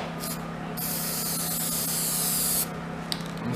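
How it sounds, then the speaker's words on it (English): A spray can of contact cement hisses in a long, continuous burst, close and fairly loud, with brief spurts before and after and a steady low hum underneath, used on a filter bag for wood gasification. "I'm going to spray this with some contact cement all the way around the border"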